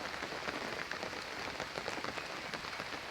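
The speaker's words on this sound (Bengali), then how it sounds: "কিবা বৃষ্টি, ঢালা বৃষ্টি, সব কাছার ভেঙে পড়ে যাচ্ছে।" Heavy rain pours steadily on a rainy day in rural Bengal, a dense, continuous close hiss of drops hitting surfaces with no pauses and no voices.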